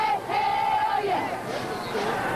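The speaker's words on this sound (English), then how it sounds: "A crowd of several thousand already on hand" Several thousand spectators roar and cheer at an outdoor sports competition, a broad, sustained wash of crowd noise with a few shouts rising above it.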